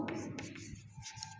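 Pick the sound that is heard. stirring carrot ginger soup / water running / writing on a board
writing on a board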